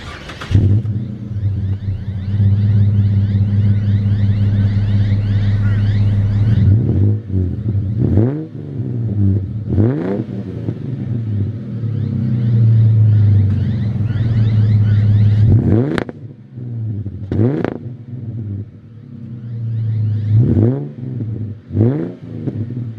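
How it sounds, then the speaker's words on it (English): A Ford Falcon with an exhaust clip idles with a deep, throaty rumble, then revs hard in a series of sharp, loud bursts that fall back between each blip. "I'm just going to put a little bit of an exhaust clip in here"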